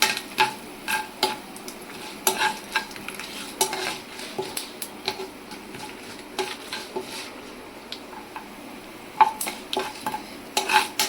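A spoon scrapes and clinks against a pan as cashews fry for a karonda tamarind rice, sharp irregular taps and stirring clatter over a faint sizzle, close and without talk.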